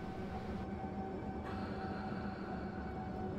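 A train running in the video game Train Simulator 2015, a steady low rumble of wheels and engine on the rails, continuous and even with no voices.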